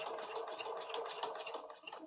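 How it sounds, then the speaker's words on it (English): A sewing machine whirs continuously and quietly with a fine, even mechanical chatter, heard alone at moderate distance. "I must sort out this sewing machine"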